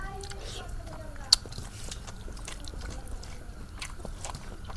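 Chewing on a mouthful of pangas fish curry cooked with ridge gourd, soft wet bites and mastication repeating close to the mic with one sharp click, faint and steady.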